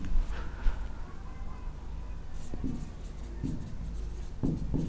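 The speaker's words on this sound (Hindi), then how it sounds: "इधर लिखता हूं" Marker or chalk writing on a board during a civil engineering estimation lesson, a steady scratchy scrawl with a few sharper taps, close and moderately loud, with no talk over it.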